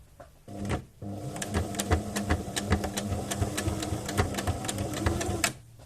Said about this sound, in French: Donc là, on fait un point zigzag, un point droit et retour.